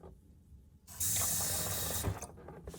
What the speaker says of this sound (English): and you'll put warm water in here